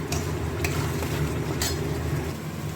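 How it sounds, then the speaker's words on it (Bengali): Chicken is stirred with Kashmiri chilli powder in a pan, a soft steady sizzle running under a few scraping clinks of a spoon against the metal. "দিয়ে সবগুলো একসঙ্গে ভালো করে নাড়িয়ে চালিয়ে দেব"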